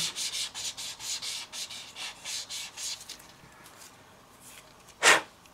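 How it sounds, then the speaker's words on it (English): Rhythmic sanding with a light sander, about a dozen light back-and-forth strokes rasping on wood, then quiet, ending with a short sharp puff of air blowing away the dust. "going to come in again with a lighter sander just to clean up what we've been doing"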